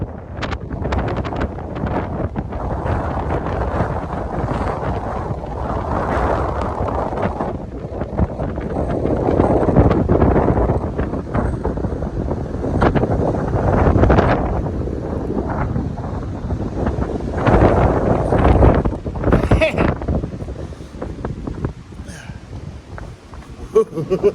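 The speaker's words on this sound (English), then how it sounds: "That's a windy little rock right there. And it's a cold wind." Strong, cold wind on a mountaintop roars and buffets against the microphone continuously, gusting louder and softer in waves with no other clear sounds.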